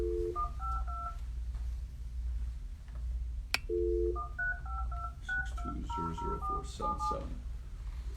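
Touch-tone telephone keypad beeps in quick runs of paired tones, a pause, a sharp click, then more rapid dialing sequences, clear and close over a low steady hum.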